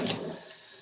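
Cool tap water runs briefly for cooking, a steady close rush of flowing water that fades after a moment.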